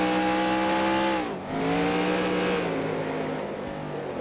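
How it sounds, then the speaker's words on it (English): A stock car engine from the 1994 Winston Cup season screams at high revs in NR2003 at Loudon, dipping briefly as it lifts and then climbing again, loud and steady with no talk. "the engine almost sounds like it's going to blow up at the end of the straightaways here in the cloudy weather"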